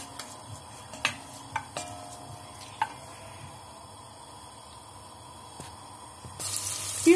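Celery being stirred in a soup pot with a spoon, giving a few sharp scraping clicks and knocks against the pot over a quiet background, with a louder clatter near the end.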